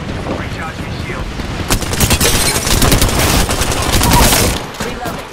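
Dense bursts of rapid video-game gunfire in a sci-fi shooter, loud and sustained, with volleys overlapping into a near-continuous fusillade that swells mid-clip, while other battle sounds mix in.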